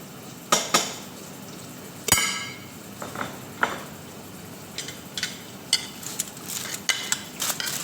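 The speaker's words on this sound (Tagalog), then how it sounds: "Dami ko pong hugasan." Dishes, pots and pans being washed at home: scattered clinks and clanks of metal and crockery, some sharp knocks, against a low steady background hiss, fairly close with no talking.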